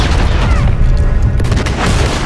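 Gunfire in Red Dead Redemption 2, a heavy booming blast with rumbling low end and a sharp crack about midway, loud and close.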